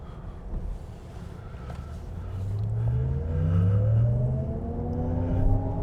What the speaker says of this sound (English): There is a weird canned engine sound.